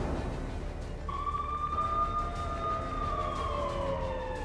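Air raid sirens wail at midnight in Tel Aviv, a long rising and falling tone starting a second in and sounding at a distance over low street background noise.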